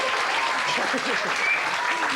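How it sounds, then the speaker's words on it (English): Studio audience applause on a TV quiz show, a dense, steady clapping wash heard close and sustained throughout. "Round of applause."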